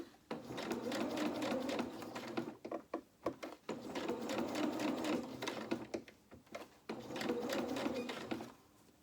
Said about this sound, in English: So quite a tight curve here, so we'll just do a couple of stitches at a time